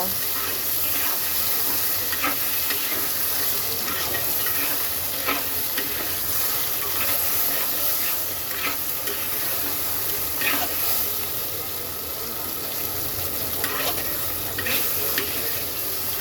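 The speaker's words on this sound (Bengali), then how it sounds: "এইবার মুখিটাকে আমি কয়েক মিনিট ভেজে নেব" Boiled taro (kochu mukhi) frying in a pan with cumin, a continuous sizzle with occasional stirring scrapes and clicks, close and steady throughout with no talk.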